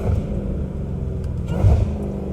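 A catless Dodge Hellcat Redeye accelerates through gear shifts, a steady close rumbling engine roar with two brief swells where the revs surge between gears.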